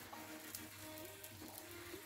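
Vegan pancake batter frying in a pan, a soft, steady sizzle with faint crackle, quiet and close, with no voices.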